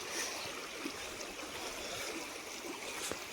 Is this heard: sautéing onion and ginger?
no